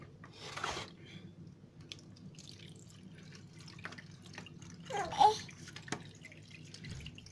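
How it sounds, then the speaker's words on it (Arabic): Water is poured into a jar for pickled turnips: a soft running trickle with dripping and a brief louder splash near the end, close by and fairly quiet, with no talking. "هنحط بقى الميه دي"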